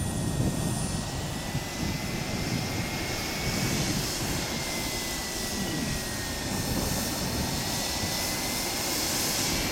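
A Freewing Venom model jet with a kerosene-fuelled turbine engine runs at a steady, loud, continuous roar with a high whine on top, holding an even level throughout with no talking.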